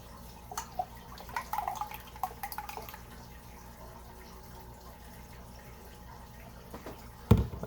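Verde sauce is poured into Mexican cake batter in a kitchen, giving soft, faint liquid trickling and dripping sounds in short bursts, followed by a quiet pause and a final thump.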